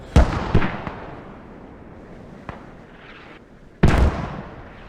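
Mortar fire in the video game Squad on the Kohat map, heard as a few loud, sharp booming blasts, two strong ones near the start, a faint one in the middle and another heavy blast near the end, with quiet rumble between.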